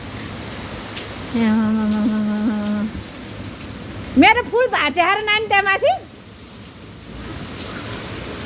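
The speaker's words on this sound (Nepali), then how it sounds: "यस्तो असिना आउँछ ल हेर्नुहोस्" A hailstorm with heavy rain in Nepal pours down as a steady broadband roar, while voices talk and call out over it partway through.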